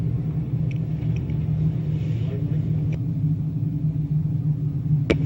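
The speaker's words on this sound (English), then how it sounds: "So yellow is out on the speedway as now Chad Edwards has led all 20 so far in" Race cars circling a short-track speedway during a caution in a Sportsman feature event, a steady low engine rumble carrying throughout with a few brief sharp clicks on top.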